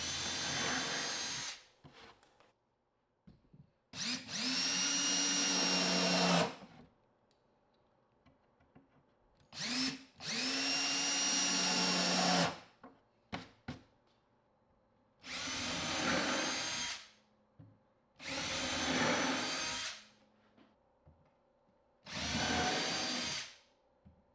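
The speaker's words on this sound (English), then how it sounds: "I'm going to hold them in place with some more deck screws" A power drill drives deck screws into the trim of a wooden planter box in several loud bursts, some long and some short, with quiet pauses between them.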